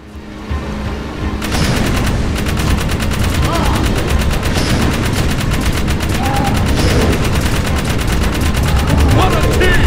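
Rapid continuous gunfire from a vehicle-mounted gun in the video game Jak 3, loud and sustained after a quiet opening second, with engine and explosion noise underneath.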